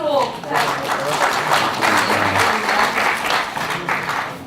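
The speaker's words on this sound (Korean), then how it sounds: "큰 박수로 부탁드립니다." An audience at a Korean parliamentary lawmakers' workshop lecture claps steadily in a room, a dense continuous wash of applause lasting throughout, with no voices standing out.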